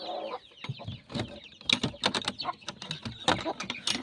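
Aseel chickens cluck on a farm amid busy clattering and scuffling noises, with scattered bursts of calls rising and falling over about four seconds.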